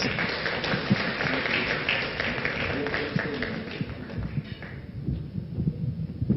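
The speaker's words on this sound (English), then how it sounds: "let's give Rhoel Aguda another round of applause" Conference audience applauding an innovation conference speaker, a dense sustained wash of clapping that fills the hall and thins out toward the end, with some crowd noise mixed in.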